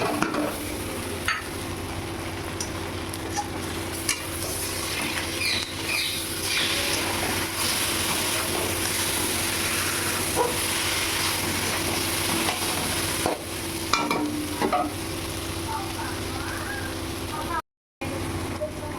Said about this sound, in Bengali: দিয়ে আর একটু নাড়াচাড়া করে নিয়ে আমি এবার সেদ্ধ করা কচু শাকটা দিয়ে দেব।